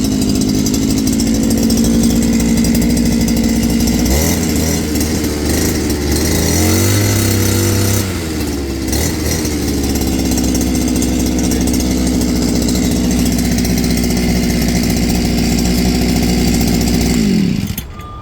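A brushcutter's small two-stroke engine runs loud and close after starting, with a steady buzzing idle that wavers briefly in pitch midway and cuts off near the end; no one speaks.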